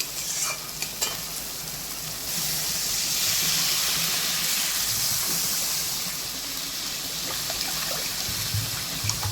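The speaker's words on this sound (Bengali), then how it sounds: "এবার আমি এর মধ্যে জল দিয়ে দেবো।" Water poured into hot spiced oil for Bengali koi fish curry sets off a loud hissing sizzle that swells and then settles into steady bubbling frying, with faint stirring clinks.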